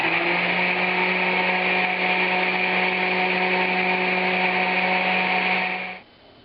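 A blender whirs steadily at high speed for about six seconds, whipping gram flour batter seasoned with salt into a foam, then stops abruptly, with no one talking.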